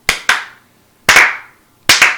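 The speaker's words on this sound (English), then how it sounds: "Slow clap." A few slow, loud hand claps sound up close in spaced groups, three pairs of sharp smacks with short pauses between, no talk.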